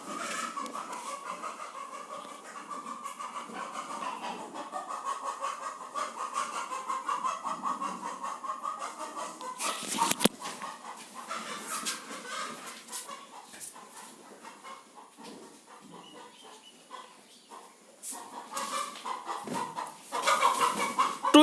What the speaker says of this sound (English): Two chicken fighting.